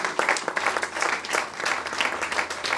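A church congregation claps and applauds together in dense, sustained applause that holds at an even level throughout, with no clear speech.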